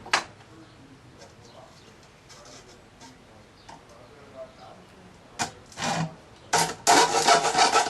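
A saw cuts through a tube marked all the way around, made for a skylight shade: scattered scraping strokes that grow into longer, louder rasping bursts near the end, heard close by.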